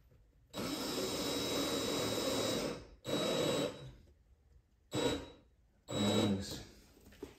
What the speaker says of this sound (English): So now I'll just screw them in.